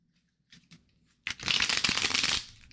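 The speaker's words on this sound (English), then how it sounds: "I'm going to shuffle." A deck of reading cards is riffled and shuffled close by, with a few soft taps followed by a dense, crisp flurry lasting about a second.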